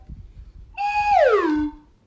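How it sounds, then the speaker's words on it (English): A slide whistle played once in a single gliding tone that starts high and slides smoothly downward, clear and fairly loud, alone with faint low rumble beneath. "We play around with the slide whistle a little bit."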